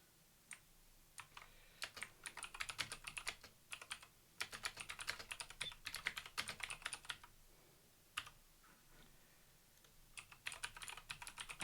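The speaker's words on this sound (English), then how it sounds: "Sorry if you hear me typing away." Keys clatter on a computer keyboard in quick, uneven bursts of typing with short pauses, close but fairly quiet, and no voices.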